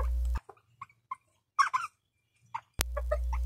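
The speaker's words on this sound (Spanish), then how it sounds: "Son gallos y gallinas miniatura, de una raza llamada Kikiriki." Miniature Kikiriki chickens clucking in short, scattered calls with quiet gaps between, close by, plus a brief louder burst of clucks midway.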